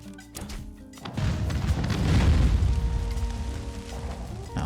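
Bombs exploding during a raid in the video game Conan Exiles, a heavy rumbling blast that swells after a second and rolls on with crashing debris, loud and close.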